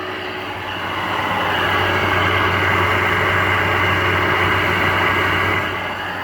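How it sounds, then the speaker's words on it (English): A worn-out air conditioner unit with a shot bearing runs steadily, giving off a loud, constant mechanical roar and hum with no pauses and no voices. "So the unit worked with the bearing that was shot."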